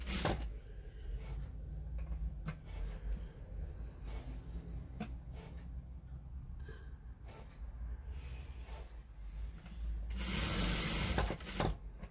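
A sewing machine joins a shirt's back panel and sleeve, running a steady low whir close by throughout with a few clicks, a rustle of fabric and a louder stretch near the end, no speech.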